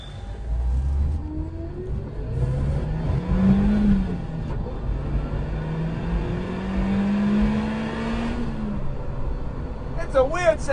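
A car on a test drive, engine rising and falling in steady revs as it accelerates, loud and close for several seconds with a brief voice near the end.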